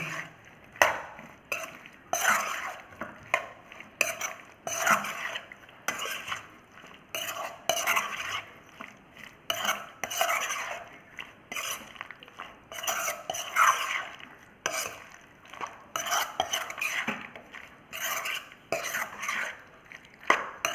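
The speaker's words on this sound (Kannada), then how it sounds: "ಇದನ್ನೆಲ್ಲ ಕ್ಲೀನಾಗಿ ಮಿಕ್ಸ್ ಮಾಡ್ಕೊಳ್ಳೋಣ" Spices and turmeric powder being stirred into a gooseberry pickle, a steady scraping and clinking of a spoon against the pot in uneven bursts, close and moderately loud with no talking.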